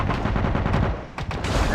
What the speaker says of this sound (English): Sand, dust, fire of guns, they really made their homework on all of this stuff that happens around soldiers in a firefight